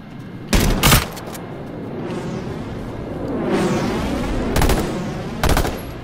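Burst-fire gunshots in H1Z1 Battle Royale: sharp, loud clusters of rapid shots at intervals, with a swelling whoosh-like rumble between the bursts and no voices.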